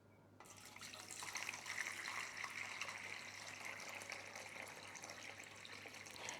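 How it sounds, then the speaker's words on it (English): Tap water runs steadily into a bread pan set on a kitchen scale, a continuous hissing pour with no talking over it. "I'm going to fill this pan up with water."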